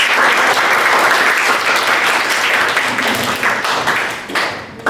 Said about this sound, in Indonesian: Kita beri tepuk tangan buat Ray